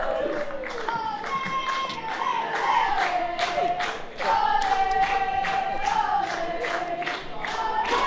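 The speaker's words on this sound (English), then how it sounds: "Crowd up and about, which is wonderful to hear." A crowd applauds at half-time of an Australian football grand final at the Darwin Nines, with a steady patter of clapping and scattered cheers from spectators. Voices are heard over the applause throughout.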